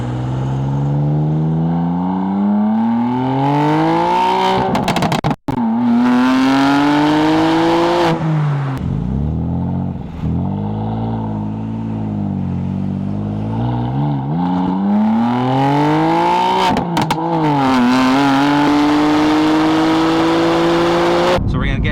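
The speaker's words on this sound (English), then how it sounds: "here are a few clips of the car accelerating" A BMW M3's engine revs and accelerates repeatedly, its exhaust note rising in pitch through the gears and dropping between shifts. A voice speaks at times over it.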